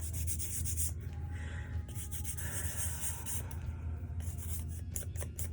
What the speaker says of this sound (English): I'm going to take this bigger nail file. I'm going to kind of go over the top a little bit.